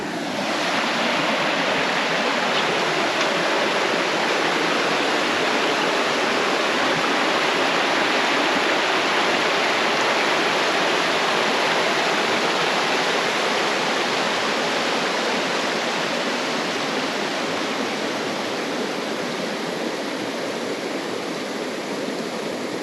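A river in the Wynoochee Valley of the Olympic Mountains rushes past in the rain, a loud, steady broadband roar of flowing water close by, unbroken throughout.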